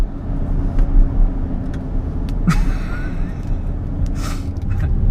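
A Range Rover V8 on country lanes gives a steady low rumble of engine and road noise heard from inside the cabin, with a few brief higher squeaks and clicks over the drone.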